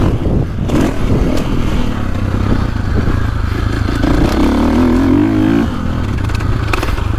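A KTM 450 SX-F motocross bike rides a flat dirt track, its engine roaring loud and close with rising revs and shifting pitch, dirt and gravel clattering underneath.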